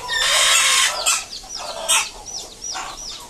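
A hen clucks and squawks loudly up close, a long agitated burst followed by several shorter clucks.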